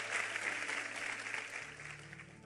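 A church congregation applauds steadily throughout, a dense continuous clatter of many hands that stays fairly even and moderately loud, with a low hum running beneath it.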